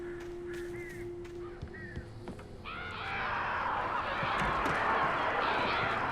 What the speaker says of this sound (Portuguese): Olha os pássaros, hein?